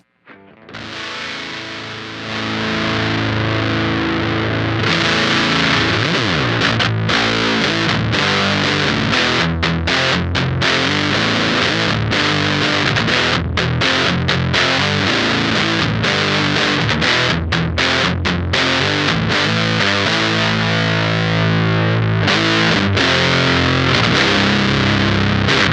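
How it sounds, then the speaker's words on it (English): LBF Fuzz Cauldron fuzz pedal on electric guitar, all knobs at noon, playing loud, thick, saturated fuzz chords and riffs continuously after a quiet start, with no talking. "let's go ahead and kick on the pedal with everything set at noon"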